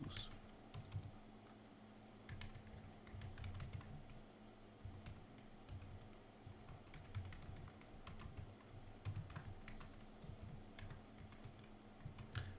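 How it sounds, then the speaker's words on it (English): Continuous typing on a computer keyboard, with quick irregular keystrokes over a low steady hum and no voices. "I'm typing in the chat."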